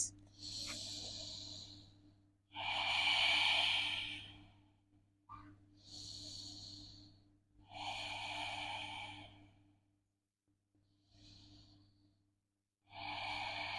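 Slow, deep breaths during a deep double glute stretch in a yoga flow: long audible exhales like sighs alternate with pauses, close and fairly soft, about five breath cycles.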